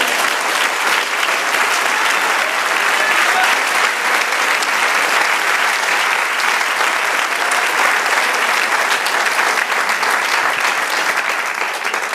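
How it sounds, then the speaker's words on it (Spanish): A church congregation breaks into loud, sustained applause, dense and even from start to finish, with a faint murmur of voices underneath. "Denle un aplauso al Señor"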